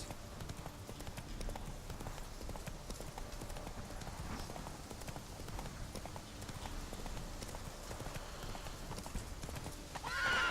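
A horse gallops and whinnies in The Witcher 3: Hearts of Stone, with steady clip-clop hoofbeats throughout and a neigh near the end, close and clear with no voices.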